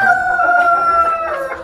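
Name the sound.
chickens crowing and clucking in a backyard flock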